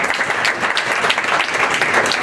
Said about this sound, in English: It's a bigger round of applause for Mario.